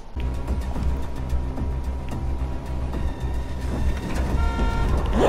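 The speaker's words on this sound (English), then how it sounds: "Jeez, that stupid car noise, man." In a Dying Light parking-lot quarantine zone, a car's droning noise runs continuously at moderate loudness, with rumbling engine tones and a brighter horn- or alarm-like layer growing toward the end.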